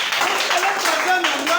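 A church congregation claps and cheers loudly for a brief burst, with voices mixed into the applause.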